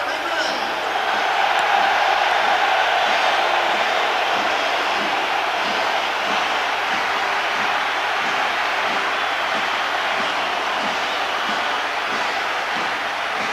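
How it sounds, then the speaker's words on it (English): A large stadium crowd at a 1997 England versus New Zealand rugby test match keeps up a steady, loud roar and cheer as England take the field, with no break in the sustained wash of noise. "the cheer starts for Lawrence Dallaglio and England"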